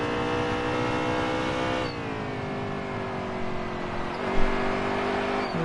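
A NASCAR race car engine in NASCAR Heat 3 at ISM Raceway drones loudly and continuously, its high whining pitch dipping as the car shifts, with a brief tire scuff near the end and no talking.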